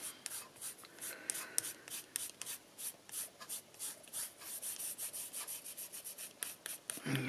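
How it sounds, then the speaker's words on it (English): A paintbrush brushes dry rusting powder off a paper craft tag in quick repeated strokes, a close, soft, scratchy rubbing rhythm with a bump at the end. "now that it's all completely dry, brush off the excess"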